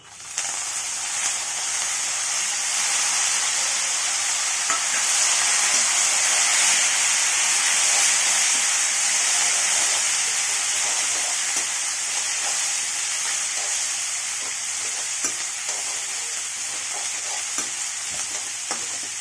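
Curry leaves frying in hot oil in a pan, a loud steady sizzle and hiss lasting throughout with faint stirring scrapes, close by and with no speech.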